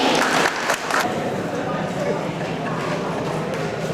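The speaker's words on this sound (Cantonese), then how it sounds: "有請鄧書記，掌聲歡迎" A crowd applauds to welcome a village party secretary to speak at the opening ceremony of a newspaper office's new premises. Dense, continuous clapping fills the short stretch, loud and close.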